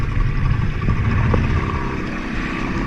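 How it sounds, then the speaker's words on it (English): A sailboat's engine drones steadily at close range after a restart, a loud low rumble with mechanical chatter and no voices. "Jamie, restart the engine."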